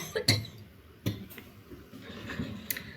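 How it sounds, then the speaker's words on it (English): One or two short, sharp coughs in a chemistry lecture on enthalpies of formation, close to the microphone and separated by a brief pause, with no speech over them. "I'm going to cough, excuse me."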